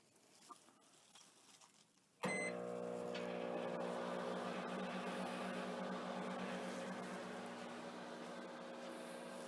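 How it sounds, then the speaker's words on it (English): A microwave oven is heating a bowl of food: a click and beep, then a steady, loud hum with a faint rattling patter that carries on for several seconds, with no talking. "you're going to put your bowl inside the microwave, and you're going to heat it up for 3 minutes"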